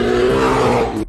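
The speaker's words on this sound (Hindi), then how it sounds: "भूरा भालू गुस्से में दहाड़ता है।" An angry brown bear lets out a loud, sustained roar, one continuous guttural blast of a little over a second that cuts off abruptly.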